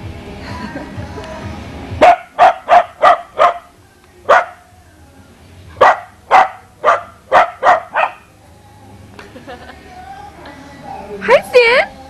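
Near and loud, a pet dog barks in rapid bursts outdoors at a home, with a string of sharp barks, a lone one, then another fast run, followed by quieter background sound and a voice near the end.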